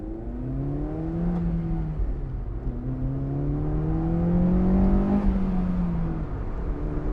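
A Honda S2000 AP2 engine in a stock, low-mileage car revs through rising and falling pitch sweeps as it climbs and shifts through the gears, a steady close drone heard from inside the cabin with no talk.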